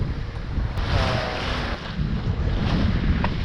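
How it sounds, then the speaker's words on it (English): Steady wind rush and sloshing four-foot chop surround a singlehanded sailboat crossing the Georgia Strait in British Columbia, loud and continuous with close water splashes against the hull. "the chop is building and it's not really representative of the wind. I'm getting some 4-foot chop here"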